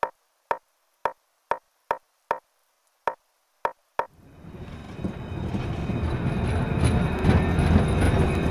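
In the video game Find Joe: Secret of The Stones, a run of sharp, evenly spaced clacks, then a swelling rumble of a tram rolling along the track, growing steadily louder with no voices.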